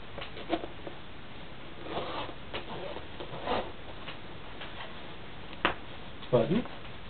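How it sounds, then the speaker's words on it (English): A chemical protective jacket with elastic wrists is zipped up in a few faint, quick zipper strokes, spaced apart against a quiet background. "Zip it up."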